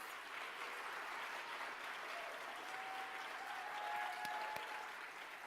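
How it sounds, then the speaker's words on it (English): Steady, even applause from the audience at a high school NHS induction ceremony, moderately distant, with a faint tone briefly audible beneath the clapping. "Please give him a round of applause."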